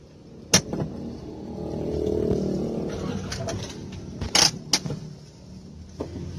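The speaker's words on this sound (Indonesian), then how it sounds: "Saya akan coba menstarternya." A manual car's starter is cranked while the gearbox is left in gear, giving a short strained grinding rumble and a jolt, followed by sharp clicks and knocks inside the cabin, close and fairly loud.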